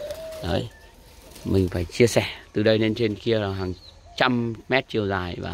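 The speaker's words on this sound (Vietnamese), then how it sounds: "bên mình chỉ có chim cu gáy và chim cu gáy thôi" Spotted doves coo in steady, rhythmic phrases at a dove breeding farm, close and clear, repeating throughout while someone talks over them.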